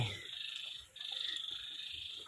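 A dense chorus of frogs croaks at a frog farm pond, a continuous buzzing trill that carries on steadily at moderate loudness with only a short dip, and no voices.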